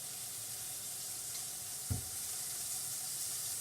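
Fish frying in oil at 350 degrees in a pan gives off a steady, even sizzle, with one brief soft thump near the middle and no voices.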